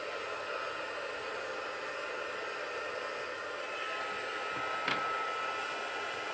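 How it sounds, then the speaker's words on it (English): A heat gun blows steadily while heat-setting embossing on a Christmas card, a constant close hissing whoosh of hot air with no talking. "I'm just going to turn on my heat gun now just to heat set this"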